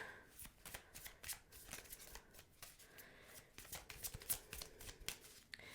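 Tarot cards are shuffled by hand in quick, repeated riffling bursts, a crisp papery flutter close to the listener, fairly quiet and with no talking.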